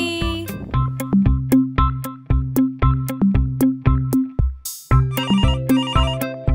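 A telephone ringtone plays loudly, a bright electronic melody of quick repeated tones with a brief pause before the tune starts again.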